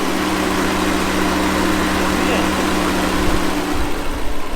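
A 1989 Volvo 480 engine running steadily at idle, a close, even hum and low rumble that holds for several seconds, returning to the road after eight years off.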